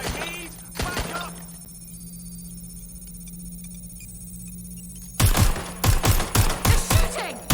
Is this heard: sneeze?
no